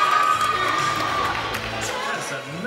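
An audience at a bikini competition, after the women's bikini junior masters class, cheers and whoops loudly, a sustained crowd roar with high shouts and a voice carrying over it, easing slightly toward the end.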